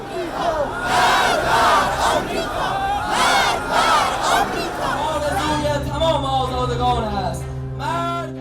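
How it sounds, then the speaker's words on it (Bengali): A large crowd of Iranian protesters chants slogans in unison on a Tehran street, loud rhythmic shouting swelling and fading, then breaking into scattered calls and cheers. "রাজপথে এমন স্লোগান দেন ইরানি জনগণ"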